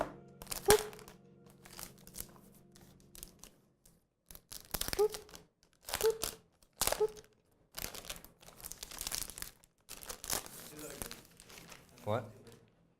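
Plastic wrap and packaging crinkle and tear as a new Dell XPS 15 9570 laptop is peeled open. The crackling comes in short bursts with brief pauses, close and fairly quiet, and someone talks intermittently over it.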